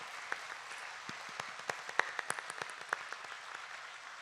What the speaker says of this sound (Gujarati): ઊંચા હાથ કરીને તાળી પાડો.